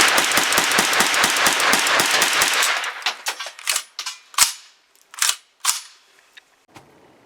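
Kalashnikov-USA KR9 fired at an outdoor range: a rapid string of sharp, loud shots at first, then slower irregular single reports with gaps between them.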